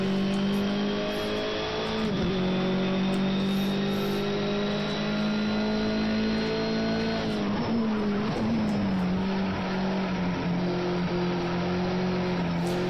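Race car engine in a Brno sprint league racing game, loud and sustained with steady revving and shifting pitch as the car slides loose through corners, tyres squealing briefly in places, no talk.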